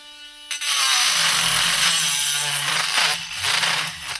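A cordless rotary engraver from AliExpress spins up after a brief quiet start and grinds at a high, harsh, buzzing pitch, dipping slightly in intensity near the end while cutting, with no voices.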